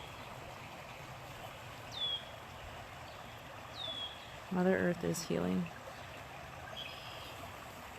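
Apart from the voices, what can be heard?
flowing water of a stream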